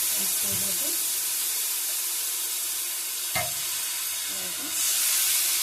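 Turmeric, cumin and chili hiss and sizzle in a pan after water is poured in, a steady bright frying crackle with a brief sharp spatter midway and a louder surge of steam near the end.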